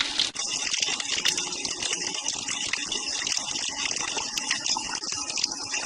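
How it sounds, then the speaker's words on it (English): Water gushes steadily from a drainage pipe, a continuous loud splashing rush close by that holds without pause. "So we just got some water from the drainage pipe over here."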